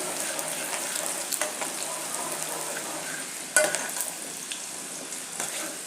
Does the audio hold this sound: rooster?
no